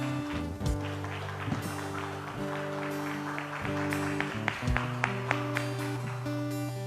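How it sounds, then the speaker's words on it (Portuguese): A church congregation claps along over music with sustained keyboard or organ chords, a lively scattered patter of hands beneath the steady tones. "Vamos dar um aplauso ao Senhor Jesus?"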